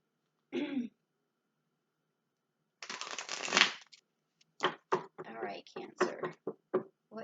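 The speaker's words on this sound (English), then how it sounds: "So I'm going to give this a good shuffle" Brief riffling burst, then a longer papery shuffle of tarot cards, followed by a series of short quick shuffling snaps, fairly close and quiet.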